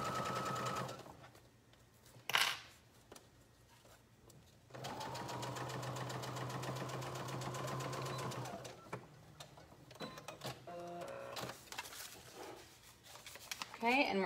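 Sewing machine stitching a zipper onto fabric for a pencil pouch: a steady mechanical whirr runs for several seconds in the middle, with shorter stop-start bursts, quiet handling noises and pauses around it.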